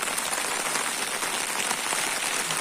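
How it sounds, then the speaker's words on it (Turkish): Heavy, steady rain pours down around someone sheltering under an umbrella, a dense continuous patter and hiss with no pauses, close and loud. "Yağmura bakın arkadaşlar bayağı bir şiddetini artırdı."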